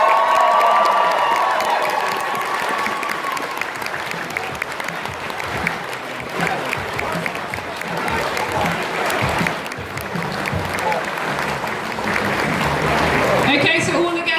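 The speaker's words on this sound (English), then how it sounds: "give our guests a big, massive round of applause" An audience at a fan convention opening show applauds and cheers as guests leave the stage, with loud, dense, sustained clapping, whoops and crowd noise throughout.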